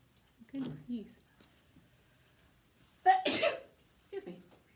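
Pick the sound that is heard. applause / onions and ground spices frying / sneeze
sneeze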